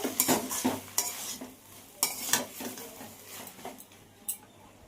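Crushed fried lentil dumplings being stirred into bottle gourd greens frying in a pan in a small home kitchen, with repeated close scraping strokes of the spoon over a soft, steady sizzle.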